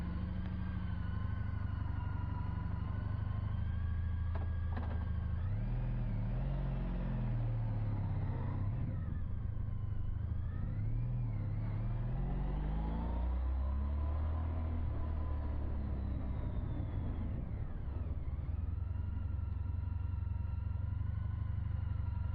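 A 2014 Honda CTX motorcycle being ridden, its engine giving a steady, continuous rumble that swells and eases with throttle changes over a constant roar of motion, with no talk.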